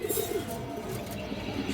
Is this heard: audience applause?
no